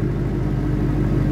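A Mercedes C63 Black Series engine runs with a deep, loud, steady low-pitched rumble, close by and alone, holding an even idle-like drone.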